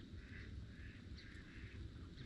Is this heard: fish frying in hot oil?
no